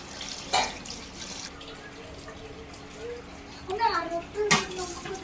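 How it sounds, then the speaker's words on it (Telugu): Water is poured into a pot of mint and coriander for bagara rice, a short splashing trickle heard near the end, fairly faint under a voice and other people talking in the background. "అందులో మనకి కావాల్సిన వాటర్ పోసుకోవాలి"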